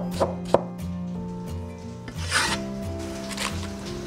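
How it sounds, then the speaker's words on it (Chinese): A knife slices half an onion into strips on a cutting board, giving a run of close, scraping rasps with a few sharp chops, alone without talk. "半个洋葱切丝"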